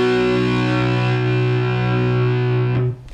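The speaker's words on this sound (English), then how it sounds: "I've got the distortion on my amp" A sustained, heavily distorted electric guitar chord rings out loud and steady, then is abruptly cut off near the end.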